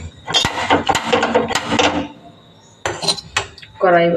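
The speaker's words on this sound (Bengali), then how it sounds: "কড়াই বসাই দেব," A kadai is set on a gas stove with metallic clanks and scraping bursts, close by, then a pause, then a few more knocks and a short ringing clatter at the end, with no talk.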